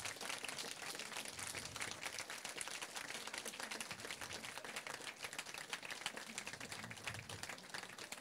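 A conference audience at a DevOps event claps steadily with dense, sustained applause throughout, faint and distant-sounding with no break.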